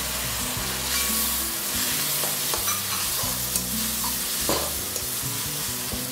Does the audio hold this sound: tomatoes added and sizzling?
yes